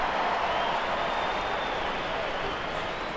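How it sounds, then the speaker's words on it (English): Crowd cheering and applause at a baseball game between the Oakland Athletics and Seattle Mariners, a broad steady roar of many voices and clapping holding at an even level throughout, with no distinct speech. "That's what everybody's cheering."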